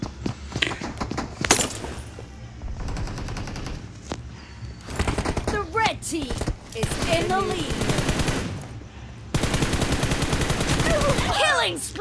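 A UMP submachine gun fires in BGMI in rapid automatic bursts, some close and loud and some farther off, mixed with footsteps and thuds.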